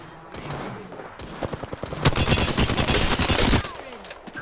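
Gunfire in Apex Legends rattles in fast bursts, starting as sparse cracks and building into dense, loud automatic fire before cutting off, with faint voices in the background.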